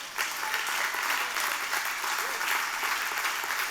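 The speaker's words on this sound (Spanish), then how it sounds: "Dar un aplauso a Dios." Church congregation applauding God during a sermon, steady fairly soft clapping from many hands in a large room, continuing throughout with no talk over it.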